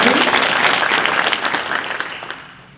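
A room full of attendees at a chamber of commerce economic forum applauds board members with dense, steady clapping that thins and fades out toward the end, heard without speech.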